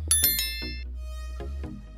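A bright bell-like notification chime rings out with several quick metallic dings at the start and a couple of softer ones after, each ringing and fading over a low steady hum, with no voice.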